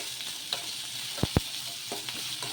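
Chopped vegetables for bottle gourd dosa sizzle steadily in a hot pan, punctuated by a few sharp knocks of a spatula stirring them.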